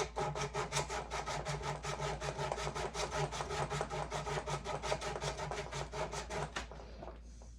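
Steel watch crown being worked with a fine abrasive finer than normal grit sandpaper: a steady, rapid back-and-forth rasping scrape with regular strokes, close and loud, stopping near the end.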